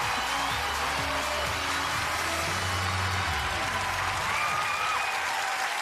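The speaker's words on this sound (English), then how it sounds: "give them all one final big round of applause" A large talent-show audience gives a final round of applause for all the night's acts, a dense, steady roar of clapping filling the room, with music tones faintly underneath.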